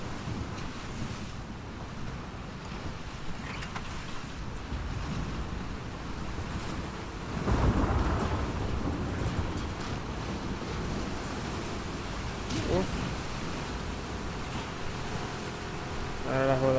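Loud, steady storm wind roars with surging, crashing sea waves and heavy rain in The Last of Us Part II, swelling briefly halfway through.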